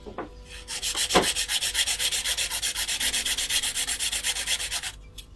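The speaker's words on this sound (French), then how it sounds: "Donc pour faire le limage, toujours utiliser une lime 180." The side of a long acrylic stiletto nail is worked with a 180-grit file, giving rapid, evenly spaced rasping strokes, close and steady for several seconds before stopping, with no talking.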